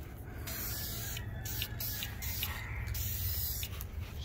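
Close, continuous hiss of an aerosol can spraying tint onto the tail light of an 8th-generation Honda Civic Si, a steady spray with brief flickers of pressure over a few seconds.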